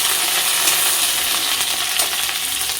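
Panch phoron spices hiss and sizzle in hot oil in a pan: a loud, close, even crackling sizzle that holds steady, with faint stirring and no talking.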